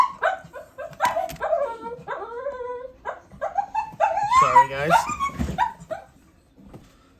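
A dog barks, yips and whimpers in a run of close, loud bursts with a growl near the end, and a person briefly speaks over it.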